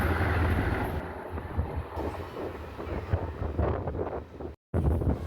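Vande Bharat express train bound for Mangalore rushing past a passenger train, a loud continuous roar and rumble mixed with wind buffeting, then a brief dropout before the noise resumes.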